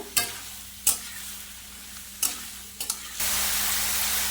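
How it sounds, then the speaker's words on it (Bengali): Banana flower being stirred and tossed with turmeric and spices in a frying pan: a few scraping stir strokes over a steady sizzle, which grows louder and denser toward the end, close and alone with no talk. "মোচাটাকে ভালো করে মশলার সঙ্গে মাখিয়ে নেব।"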